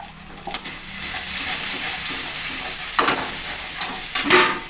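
Marinated meat sizzles steadily in a pan as turmeric powder goes in and a spoon scrapes through it, a continuous close fry broken by a few sharper stirring clatters near the end.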